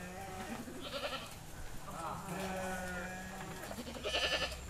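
Sheep kept for the Qurban sacrifice bleat several times in a rural Indonesian village, with some loud, some fainter, over outdoor background noise and people talking nearby.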